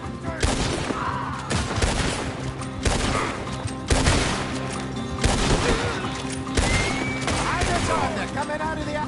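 A frantic shootout in the video game Red Dead Redemption 2, with repeated loud bursts of close gunfire landing roughly every second, booming cracks over a background score and occasional shouted voices.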